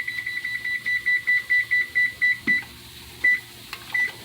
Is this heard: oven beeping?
yes